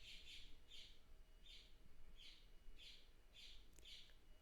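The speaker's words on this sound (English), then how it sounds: "Why is my bird chirping like crazy?" A pet bird chirps in a fast, steady series of high, bright double chirps, about twice a second, faint against a constant low room hum.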